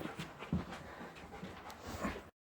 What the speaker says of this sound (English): Dog's running around.